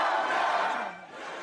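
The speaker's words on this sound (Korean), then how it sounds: "지지자들이 환호합니다." Supporters occupying a human rights commission office cheer and shout together as a crowd, loud at first and then easing briefly before picking up again.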